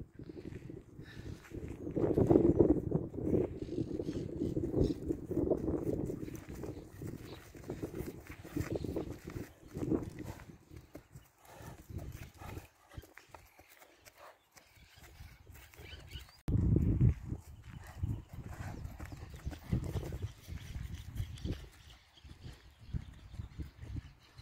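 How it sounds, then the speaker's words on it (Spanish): Hooves of an overo gateado horse clip-clop across the ground as it trots, moderately close, with louder bursts of steps near the start and again partway through, amid outdoor rustle and no talk. "Un caballo que lo corretea y queda, pero baja a cero"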